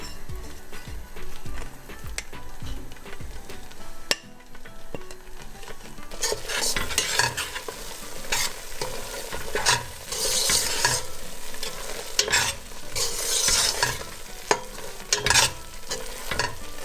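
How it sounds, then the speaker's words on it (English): Spoon stirring a thick mohanthal mixture loosened with ghee in a pan, with repeated scraping strokes and a soft sizzle, close and fairly quiet, intensifying in the second half, no voices. "So you want to be able to move your spoon very freely"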